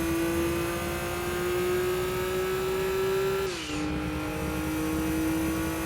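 Turbocharged car engine in the PlayStation racing game Gran Turismo 2, holding a loud steady high drone through a National B License test, with a brief dip around a gear shift before it settles again, no talk over it.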